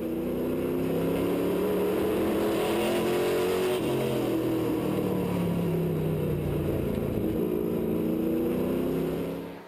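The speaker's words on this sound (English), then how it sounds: "Let's take a listen to that V8 power." Onboard sound of a V8 race truck at speed on a racetrack, a loud, continuous engine roar with shifting pitch as the throttle rises and eases, no voices.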